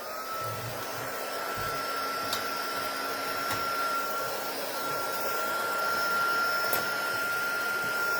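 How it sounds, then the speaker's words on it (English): A handheld craft heat tool blows hot air to dry fern stencil butter texture paste, a steady close whooshing whine with a thin tonal hum, running continuously and alone. "I'm going to use my heat tool to dry this this fern stencil butter"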